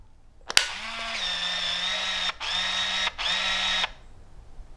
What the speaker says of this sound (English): That's telling you your camera is loaded and ready to go.